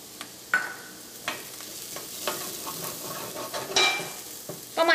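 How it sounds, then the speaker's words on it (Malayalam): Turmeric powder frying in hot oil with ginger garlic paste for a Kerala chicken masala, a steady close sizzle broken by sharp scraping stirs of the spoon against the pan. "അപ്പം മഞ്ഞൾപ്പൊടിയും എണ്ണയിൽ കിടന്ന് നന്നായിട്ട് മുരിഞ്ഞിട്ടുണ്ട്."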